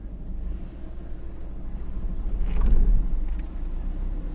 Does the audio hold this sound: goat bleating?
no